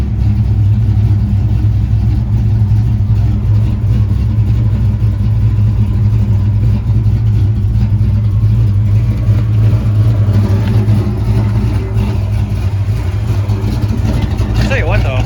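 A 1986 Ford Capri engine idling: a steady, close, loud low hum with a continuous drone and no clear revving, as someone talks over it.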